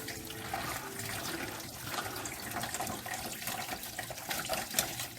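Bitter melon being rinsed under running tap water after soaking in salt, a steady close splashing rush of water with faint clatter throughout, no talking.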